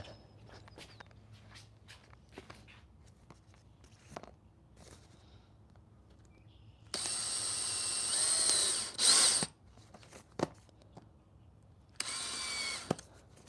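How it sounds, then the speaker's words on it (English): After scattered handling clicks and taps, a power drill whirs loudly through cardboard for a couple of seconds, stops, then buzzes again briefly, close by. "I think I can just drill through it. It's cardboard."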